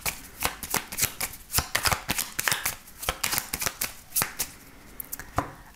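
Repeated riffle shuffling of a 32-card deck during a tarot-style card reading, a brisk run of crisp, close card flutters and snaps with no voice over it.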